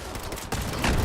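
Gunfire from a weapon in Fallout 76, a dense burst of rapid shots that grows louder and heavier in the second half, with no talking.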